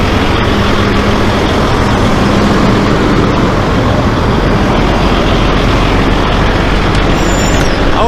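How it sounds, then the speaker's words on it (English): A generator chugs steadily alongside an idling flatbed truck engine, a loud, constant low rumble with dense broadband noise throughout, no speech, near and continuous. "So generator still putting along. Truck's running."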